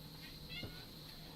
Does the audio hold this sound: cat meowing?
yes